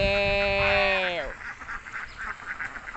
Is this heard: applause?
no